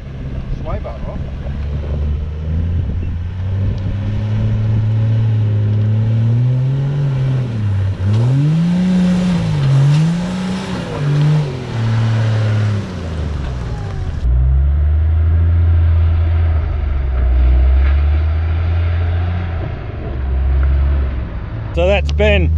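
Engine of a 105 series four-wheel drive revving hard during a wheel lift, a loud close drone that rises and falls in repeated swells, with wind buffeting the microphone.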